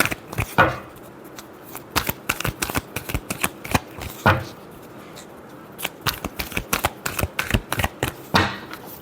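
Tarot cards are shuffled by hand in a love reading, a fast irregular flurry of crisp riffling and tapping clicks in bursts, close and fairly loud, with no talk.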